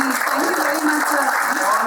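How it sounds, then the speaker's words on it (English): Applause from an audience at a press conference, a dense steady wash of clapping with some voices mixed in, fairly loud throughout the short stretch. "A big round of applause for Mr. Munir."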